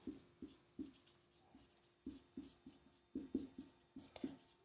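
Short scratchy strokes of writing on a board or paper while listing multiples in a maths lesson, coming in quick irregular clusters of taps and scrapes, faint and close, with no talk.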